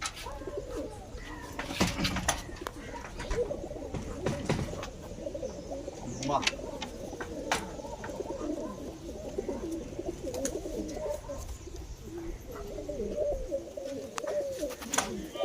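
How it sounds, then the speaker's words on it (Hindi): Dhuma pigeons coo softly and continuously in low, rolling murmurs at a pigeon-flying contest in Nagpur, with scattered clicks and faint background voices. "व्यूअर्स देख सकते हो ये धुमा कबूतर"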